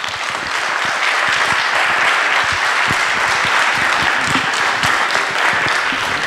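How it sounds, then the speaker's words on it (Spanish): Sustained audience applause for a biologist after a talk on biodiversity, dense steady clapping from a crowd filling the whole stretch at even loudness, with no voices over it. "Repitamos el aplauso para Salvador Donji"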